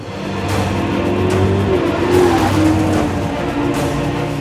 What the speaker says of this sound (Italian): Vi aspettereste una Ferrari a questo punto, invece sto guidando una Maserati.